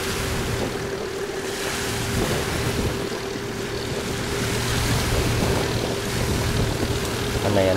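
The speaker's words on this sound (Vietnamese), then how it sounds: "Hôm nay đang nổi sóng các bạn." Rough sea churning around a fishing boat towing a loaded ferry barge offshore, a steady loud wash of waves and wind with a low engine drone underneath throughout.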